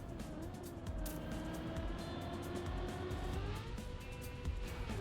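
Race cars accelerating in the video game Trackmania, a steady engine roar with rising whine and occasional tire squeal, continuous and fairly loud with no talk.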